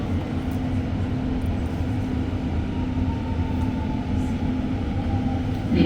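REM automated metro train approaching Édouard-Montpetit, the deepest station in Canada, heard from onboard as a steady, loud rumble with a faint whine, continuous for several seconds with no talking.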